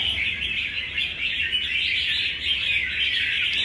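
An oriental magpie-robin sings close and loud in a continuous, dense stream of bright chirps and warbles, with no voices over it.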